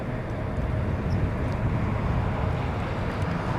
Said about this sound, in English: The sound of the GE90.